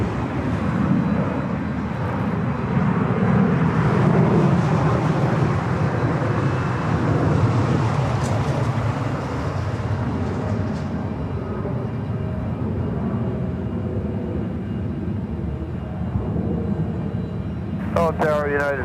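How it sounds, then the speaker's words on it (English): A United Boeing 787 Dreamliner arriving at Los Angeles International Airport gives a broad, steady jet roar that swells and lingers, with distant traffic beneath and a brief high chirp near the end. "We got that flight coming in from Portland. Followed by that United Dreamliner."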